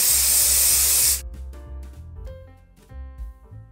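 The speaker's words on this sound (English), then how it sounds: "adding a bit of hairspray" A can of hairspray is sprayed onto hair in one loud, close hiss lasting about a second, then it stops and quieter background music plays on.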